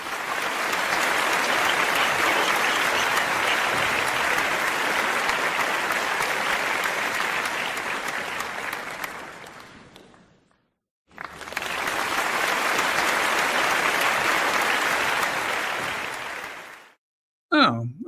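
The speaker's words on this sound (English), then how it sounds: "I'm going to give myself some applause" A single person's applause comes in two long, steady bursts separated by a short silence, with a brief breathy voice sound at the very end.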